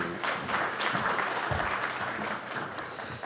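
A full hall of conference attendees at a French business event applauds steadily: dense, sustained clapping with a faint voice or two mixed in.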